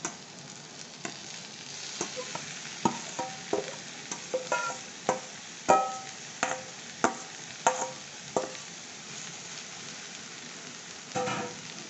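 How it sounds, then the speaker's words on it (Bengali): Jackfruit paste hand-mashed earlier is stirred into soft, melted mango with turmeric in a frying pan, giving a run of close, sharp spatula scrapes and clacks over a low steady sizzle. "আমি তখন এই কাঁঠাল যেটা আমি পেস্ট করে রেখেছি হাত দিয়ে সেটা আমি এবার দিয়ে দেবো।"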